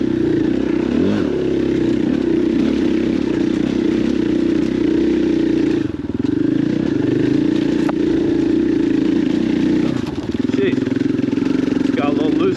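Motorcycle riding an off-road trail at Stonyford OHV area, its engine a steady, loud, continuous drone for the whole stretch, with slight dips in pitch and wind buffeting the rider.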